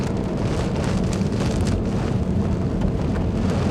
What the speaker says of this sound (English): Hail's getting a little bigger, don't like that.